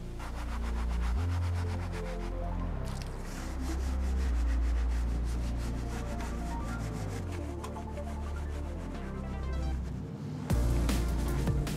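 A wet brush scrubs a car wheel during detailing with a steady back-and-forth rubbing swish, loud and close, with a short break before a final burst of scrubbing.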